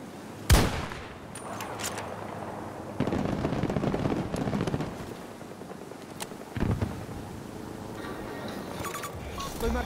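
Gunfire in Battlefield 2042, a loud sharp shot followed by bursts of rapid machine gun fire and later single sniper cracks, with distant battle noise and quiet talk in between.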